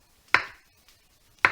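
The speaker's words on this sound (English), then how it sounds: "quickly chop these mushrooms without chopping my fingers" A kitchen knife chops mushrooms on a cutting board, with two sharp, distinct thuds about a second apart and a faint tap between them, heard close up and with no one talking.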